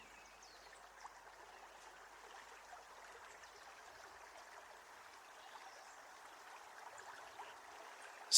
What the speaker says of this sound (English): Listen to the sounds the water of the stream in front of you makes as it meets small stones.